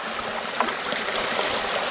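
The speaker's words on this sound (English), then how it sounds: "Fill your bucket up with water." Bucket being filled with water outdoors while gold prospecting near a sluice box, a continuous rushing, trickling water sound, fairly loud and close, with no talk.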